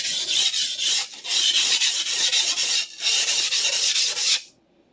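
A Clyde Cutlery chef knife is drawn across a coarse whetstone in steady, rasping strokes, about ten close passes with short pauses between them, then it stops.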